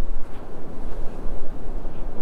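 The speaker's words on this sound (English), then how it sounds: "Nice and quiet. All you hear is the ocean breeze," Strong ocean wind at Matagorda Beach buffeting the microphone, a loud low rumble with steady gusts and surf noise underneath, no voices.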